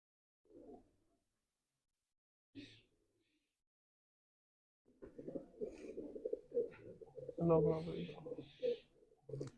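Cheena breed pigeons give a couple of short, soft coos in near silence, then someone talks steadily over further low cooing and a rising, busier burst of bird calls toward the end.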